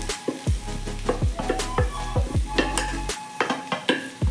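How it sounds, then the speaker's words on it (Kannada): Boiled ivy gourd frying in oil with onions, stirred in the pan: a constant sizzle broken by repeated close scraping and clattering strokes of the spatula at a quick, uneven rhythm. "ಎಣ್ಣೆಯಲ್ಲಿ ಸ್ವಲ್ಪ ಫ್ರೈ ಮಾಡ್ಕೋಬೇಕು."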